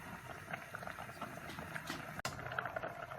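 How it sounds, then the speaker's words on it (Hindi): Noodles boil in a pot of water over a medium flame, giving a steady, soft bubbling and simmering hiss with one sharp tap partway through. "अब हम इसको 7 से 8 मिनट के लिए बॉईल कर लेते हैं मीडियम फ्लेम पर"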